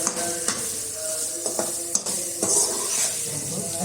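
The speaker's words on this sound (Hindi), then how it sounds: "इसमें इसको थोड़ा सा फ्राई करें" Vegetables frying with white pepper powder in a pan over a low flame, a steady hiss with occasional stirring clinks and scrapes throughout.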